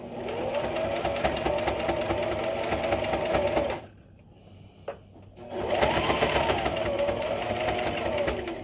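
A sewing machine stitches a fabric tie in a fast, loud, steady whir. It stops briefly in the middle with a small click, then runs again at full speed.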